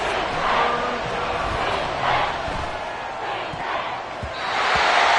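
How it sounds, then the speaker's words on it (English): A packed American football stadium crowd roars loudly and continuously on a third-and-long play, with swelling waves of cheering and dull thumps beneath. "This crowd turning up the decibel level."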